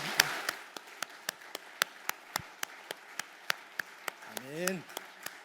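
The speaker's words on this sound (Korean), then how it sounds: "우리 다시 한번 영광의 박수를 올려드리겠습니다" Congregation in a church Sunday service clapping in a slow, steady rhythm, sharp regular claps spaced about a third of a second apart, with a brief spoken voice near the end.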